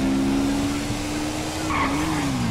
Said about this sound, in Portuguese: Vamos cantar pneu?